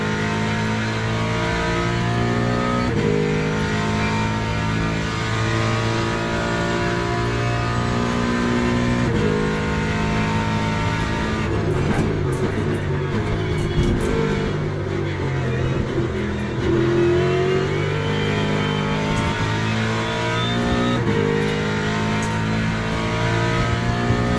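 Mustang GT3 race car in a video game race at Sebring, engine droning loud and steady throughout with repeated gear changes and throttle swells, a rougher burst mid-lap, no voices.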